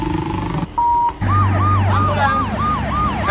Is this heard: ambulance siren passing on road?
yes